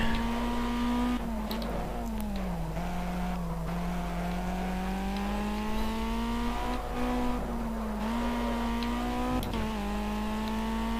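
A race car engine in the Project CARS video game on Xbox One drones steadily at a high, fairly constant pitch, dipping and rising as it shifts and brakes through corners, loud and close with little else present.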